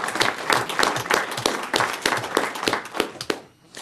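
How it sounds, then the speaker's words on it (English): At a county board meeting, a small group claps in a round of applause, loud and close, with uneven individual claps that taper off near the end. "And let's give them a round of applause,"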